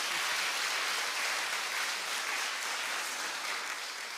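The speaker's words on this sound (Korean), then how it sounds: "한번 우리 고장로님 박수 한번 쳐드려요." Congregation applauding during a Korean Sunday church service, honoring an elder called forward; steady, dense clapping fills the room continuously without pause, moderately loud and even throughout.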